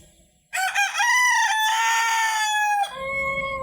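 A Fayoumi rooster on a poultry farm lets out one loud, drawn-out crow close by, followed by fainter clucking from the hens.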